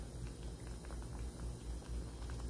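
Squid soup with onion and radish boils in a pot, giving a close, continuous bubbling and soft popping at a fairly low level, with no voices.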